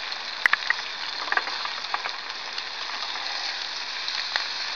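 Scallops searing in a hot pan with a knob of butter give a steady, soft sizzle with faint crackles and a few sharper pops, at low volume with no voices.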